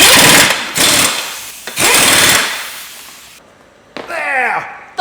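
Loud rattling bursts of an impact wrench driving bolts into a car flywheel, three long runs separated by pauses, then a whirring spin-down with ringing tones at the end.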